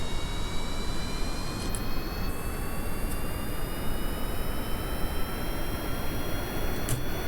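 A Kerbal Space Program rocket engine throttling up in the video game, a steady, loud roar with a broad rumbling body and faint high whine, holding constant throughout.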